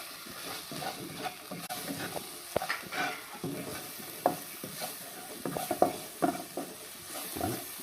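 Green chillies and salt frying in a hot pan with ginger-garlic paste, a steady sizzle under repeated scraping stirs and occasional sharp clinks of the spoon against the pan.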